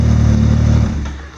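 A turbocharged 2015 Yamaha Viper XTX LE snowmobile with a turbo kit exhaust revs loudly and close by, a deep steady engine drone that holds for most of a second before easing off into a lower idle.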